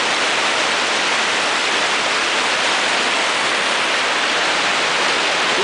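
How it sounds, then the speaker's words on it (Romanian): A strong mountain spring at Cheile Butii pours and splashes, producing a loud, constant, broadband rush of water with no breaks, heard up close and alone. "Izvorul cel puternic."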